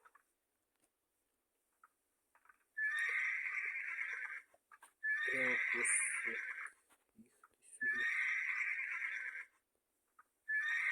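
Horse neighing in a farming video game while herding cows, several loud whinnies repeating at regular intervals against a quiet background, with a voice talking in between.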